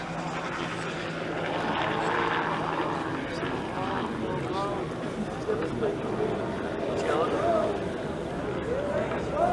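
A steady rumbling roar of an AH-64 Apache attack helicopter flying nearby at a military demonstration, sustained throughout, with people talking over the engine noise.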